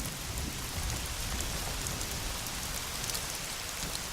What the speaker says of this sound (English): it's raining relentlessly for days